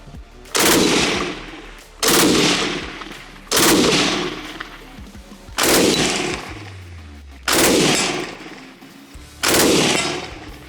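Six loud bursts of automatic fire from a light machine gun, each a short rattling volley, separated by pauses of about a second and a half.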